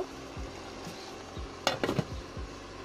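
Okra and sarpunti fish cooking in a covered pan: a faint, steady sizzle with soft periodic bumps, broken by a brief cluster of metallic clatter from the pan or lid.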